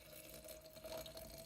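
Water poured from a container into a jar of apples being set up for homemade apple cider vinegar, a quiet steady trickling pour heard close up with no talking.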